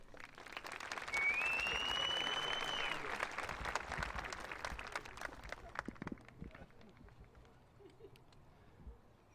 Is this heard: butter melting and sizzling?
no